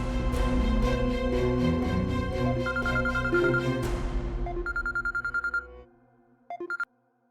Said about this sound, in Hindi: मैं अभी अम्मार साहब को फोन करती हूँ।